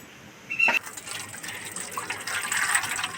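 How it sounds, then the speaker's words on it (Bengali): Water splashing and pouring as lentils (dal) are rinsed for a Bengali mango dal, with a brief louder gush near the start and then soft trickling and swishing close by. "যত ডাল ভালো করে ধোয়া হবে ততই টেস্টফুল হবে।"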